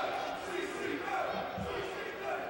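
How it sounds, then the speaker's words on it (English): A wrestling crowd at a CCW show chants in unison, a steady rhythmic roar of many voices from across the arena, fairly distant and filling the whole clip. "The big CCW chant coming from the crowd."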